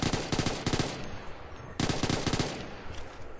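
Rapid bursts of ACR rifle fire at a range in Ghost Recon Future Soldier, two loud sustained volleys of quick repeated shots separated by a short pause, with no talking.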